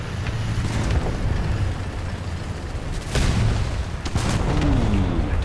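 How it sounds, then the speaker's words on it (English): Explosions and booming gunfire in War Thunder tank combat, a loud low rumble continuing throughout with sharper blasts near the middle and end, no talking. "Ooh, that's a big explosion."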